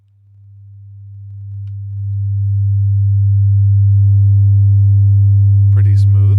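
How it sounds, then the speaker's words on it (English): A pure, low steady tone swells in and holds smoothly, growing louder before settling at a constant level. "And then we get back to our sine wave."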